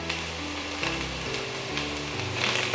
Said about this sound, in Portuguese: Vou fritar um pouquinho essa cebola até ela ficar transparente